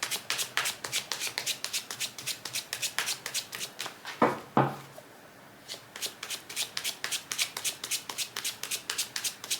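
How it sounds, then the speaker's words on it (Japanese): Tarot cards are shuffled by hand in close, rapid, rhythmic riffles, with a brief pause midway before the shuffling resumes. "もうちょっとカードシャッフルしましょうかね。"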